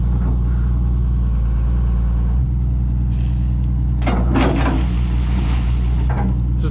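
A Daewoo digger stuck in a bog hole runs with a loud, steady low engine drone throughout, with brief hissing and clanking bursts midway over the constant rumble.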